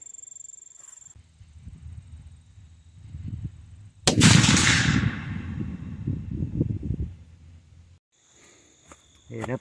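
A single sharp gunshot from a .44 caliber gun firing sabot bullets at a 100-yard target outdoors, loud and close, with a long rolling echo afterward over steady insect chirping.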